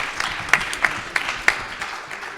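A few scattered, separate hand claps ring out from an audience at a Catholic poetry reading and anthology release, sharp and fairly close over a low room hum.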